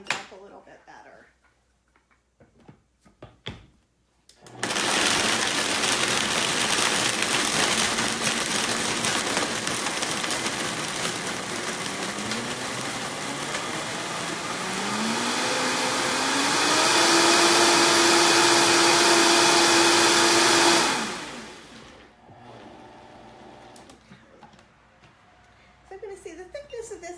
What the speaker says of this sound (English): If you have a not strong blender, then you definitely want to try and use crushed ice if you can